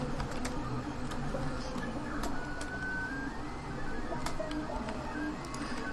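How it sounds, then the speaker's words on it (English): A printer runs steadily in the background with a constant mechanical hum and scattered ticks and clicks, fairly faint and unbroken throughout. "I don't know how well you can actually hear the printer"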